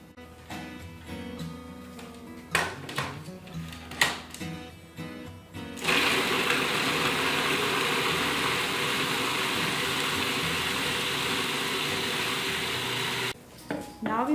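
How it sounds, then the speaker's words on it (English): Food processor chopping one medium carrot for a vegan burger mix: a steady, loud whirring grind that starts abruptly and runs continuously for several seconds after some brief clattering and handling noises, stopping near the end. "now we're going to place this in the food processor"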